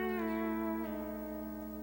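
On a pedal steel guitar, a sustained melody note is bent with the F lever, sliding smoothly in pitch and ringing clearly on its own, rich in overtones and slowly fading.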